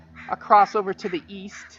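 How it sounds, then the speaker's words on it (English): A crow caws outdoors among remnant Douglas firs and cedars near a playground, its harsh call partly masked by a person speaking clearly over it. "there's a crow calling"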